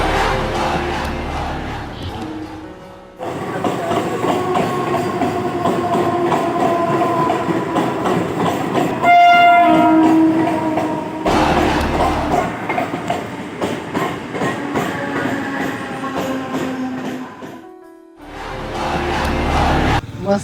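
A train runs on the rails, a loud continuous rumble and rattle of wheels and carriages with rhythmic clatter, broken by a few abrupt cuts, with crowd-like chatter and cries in the mix.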